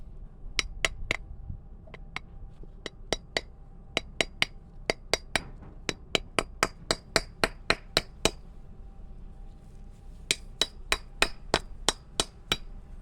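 Hammer strikes on boat trailer wheel bearings for a Carolina Skiff trailer, sharp metallic taps in quick irregular runs, dozens of close ringing hits with brief pauses between bursts.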